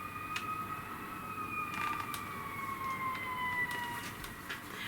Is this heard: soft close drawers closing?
no